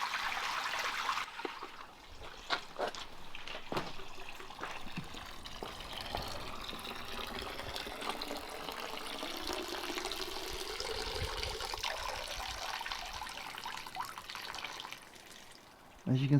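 Water trickles and splashes in a DIY spillway bowl waterfall driven by a pump with a no-return valve, the flow tapering and changing pitch as it drains, with someone talking intermittently over it.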